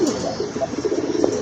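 Pigeons at a large Bangladeshi breeding farm coo close by, with repeated soft throaty rolling calls overlapping over a brief stretch, fairly loud and without talk.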